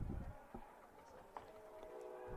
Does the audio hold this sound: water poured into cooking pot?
no